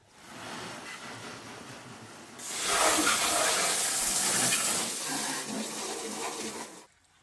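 Water runs steadily while a Holden Commodore is washed, starting softer and swelling into a loud, continuous hissing spray for several seconds before cutting off, with no talking.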